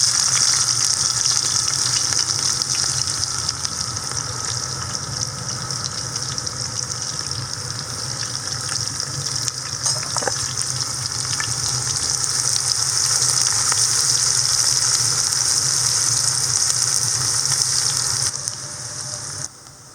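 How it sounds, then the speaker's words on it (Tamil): Onions frying in oil for ghee rice give off a steady, dense sizzle that holds at an even loudness for the whole stretch, with no voices over it. "இந்த எண்ணெயில் வந்து நெய்ச்சோறுக்கு தேவையான அளவு வெங்காயம் வந்து ஃப்ரை பண்ணி"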